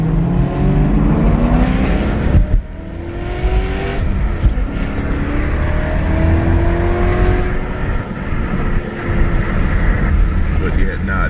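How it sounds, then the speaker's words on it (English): BMW F80 M3 engine revving nearby, a loud rough rasp climbing and falling in pitch over several pulls, with people talking over it. "this car sounds amazing"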